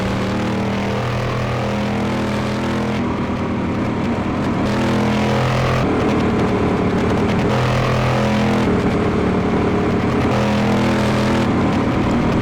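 Car in Car Mechanic Simulator 2018 driving fast on a straight, its engine roaring loud and steady while it climbs through the gears, with brief dips at each shift, and no one speaking.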